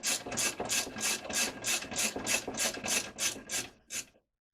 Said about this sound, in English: So I'm just going to wind it back in again.